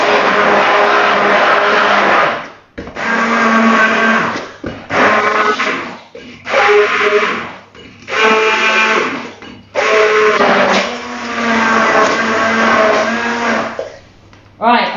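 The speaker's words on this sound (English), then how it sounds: "so I'm just going to blend it so it's all quite smooth and together." A loud blender runs in repeated bursts, whirring and straining through beetroot chocolate cake batter, with short pauses between pulses.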